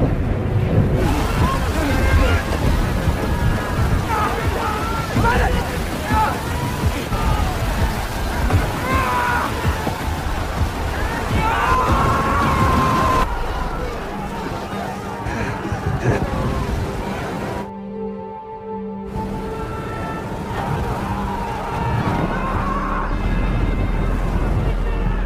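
A violent storm at sea with heavy rain and crashing waves, as a Viking ship is tossed about on the open ocean; a dense, loud roar carries on almost continuously, with a brief dip in the middle.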